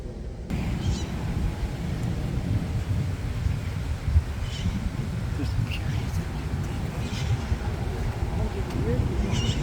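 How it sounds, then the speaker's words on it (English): Steady, blustery wind roars and buffets the microphone throughout, with faint voices and small sounds barely audible beneath it. "A little windy, a little breezy."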